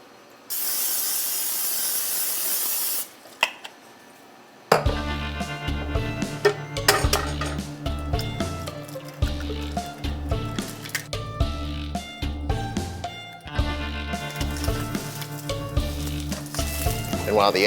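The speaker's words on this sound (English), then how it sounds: "while the eggs are frying" Eggs sizzle in a pan, cooked over medium for a keto breakfast wrap, a steady hiss for about three seconds before it stops and rhythmic music takes over.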